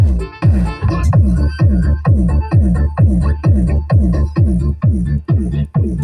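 A loud, bass-heavy beat pumps through a 12-inch JBL speaker driven by an STK4122 amplifier in steady repeating pulses, with music layered on top and no talking.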